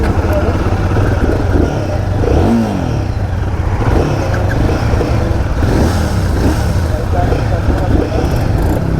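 A Royal Enfield Guerrilla 450 motorcycle with the 450cc Himalayan engine revs and pulls, its loud close engine note rising and falling through several throttle blips over road noise, with someone talking over it.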